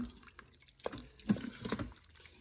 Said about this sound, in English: We'll give that a big stir.